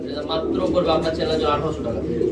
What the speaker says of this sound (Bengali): একজোড়া ইউলো কালার বোম্বাই কবুতর রয়েছে